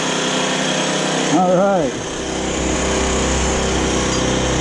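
A Metro scooter engine fitted with an NCY CDI and a Polini variator fires up and runs at a steady, buzzing high idle, with a short rising-and-falling pitch sweep as it catches and a brief spoken word over it.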